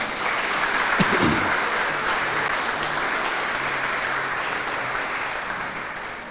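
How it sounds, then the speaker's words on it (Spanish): Church congregation applauding during a Spanish-language sermon, a steady wash of many hands clapping at moderate distance that holds evenly throughout. "Dele un aplauso a la palabra de Dios"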